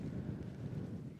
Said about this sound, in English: Wind's still picking up in gusts.